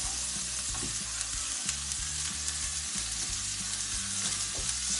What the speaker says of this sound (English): The moment we hear it boiling again with the oil is when we toss the